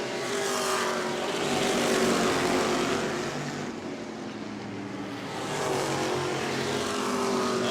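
Several race cars in a close battle on an oval track at New Smyrna, a loud continuous engine roar rising and falling slightly as they pass, with no talk.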